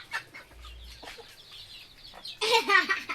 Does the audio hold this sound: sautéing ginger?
no